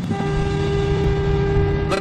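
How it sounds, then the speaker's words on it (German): A steady car horn blares continuously with a constant pitch, loud and close, over a low background rumble, the pitch holding while the car drives. "Ich werde jetzt mal so richtig auf die Hupe drücken."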